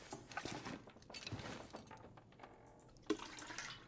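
Toilet water being collected in the survival game The Long Dark, a short burst of gurgling, trickling water at moderate level, with a brief clunk near the end.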